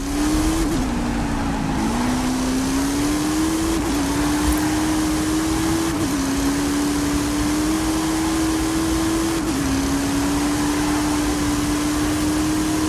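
The Twin Mill car's engine accelerates in Forza Horizon 5: a continuous loud engine whine climbing steadily in pitch, broken by several brief dips as gears shift, with no voices.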